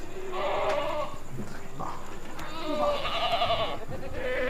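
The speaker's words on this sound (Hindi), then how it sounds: "106 किलो का बकरा है" Goat bleats repeatedly at close range: a roughly 106 kg goat with six teeth, among other large goats at a livestock pen, with animal cries overlapping one another and some background talk.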